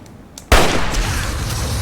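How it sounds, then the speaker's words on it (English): Gunfire in Fallout 3 erupts suddenly after a quiet moment and becomes a loud, sustained barrage of shots and booms, close and dense, with no talking. "They're really standing up to my shots."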